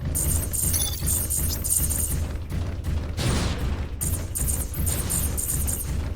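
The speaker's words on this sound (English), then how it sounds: "Oh, they're just shooting." Enemies firing guns in the mech combat game M.A.S.S. Builder during a battle at sea, a steady clatter of shots and bursts blending with game music and effects, one louder burst around the middle.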